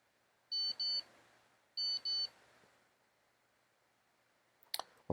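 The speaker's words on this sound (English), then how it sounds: "That was, I guess, the default beep when the new plugin started." Two loud paired electronic beeps from a newly started software plugin, spaced about a second apart, ring out in a quiet room, followed later by a brief click.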